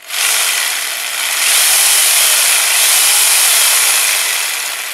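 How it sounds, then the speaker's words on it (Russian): A Bosch jigsaw cutting, a loud close buzzing saw rasp that runs steadily for about five seconds with slight swells in intensity and no talk. "лобзик бошевский пилякает"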